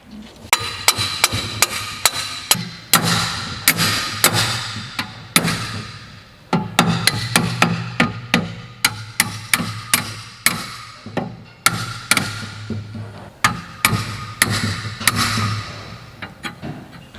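Sharp metal hammer strikes ring out in irregular bursts as parts go back into a Gleaner combine before wheat harvest, the blows close and loud with short pauses between groups.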